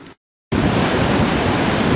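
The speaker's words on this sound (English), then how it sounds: "There's really quite a surf here." Ocean surf rolling onto the shore at Dipolog City, Zamboanga del Norte, a loud, continuous broadband wash that begins after a short silence, with no talk.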